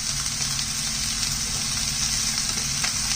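Vegetables for pineapple fried rice fry in a hot pan, giving a steady, close sizzle with a constant hissing crackle and no talk.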